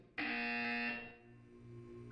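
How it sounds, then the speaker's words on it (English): A buzzer sounds in the Portal 2 video game, one sudden loud harsh electronic tone that holds for about a second and then decays, leaving a low hum behind it. "You will hear a buzzer. When you hear the buzzer, look up at the ceiling."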